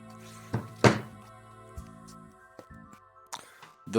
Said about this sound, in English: The Bible has been thumped.